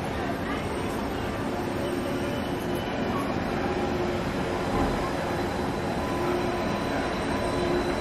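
The Disneyland monorail runs while heard from the front seat, a continuous loud rumble and rushing drone with faint squeal-like tones above it.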